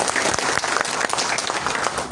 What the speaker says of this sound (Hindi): आप जोर से तालियां